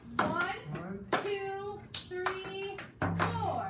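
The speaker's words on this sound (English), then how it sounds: "can we clap it one more time without using any words?" Small group of children clapping a rhythm exercise in a music lesson, a handful of sharp claps in separated bursts with short pauses between, close and fairly quiet, with some voices speaking in between.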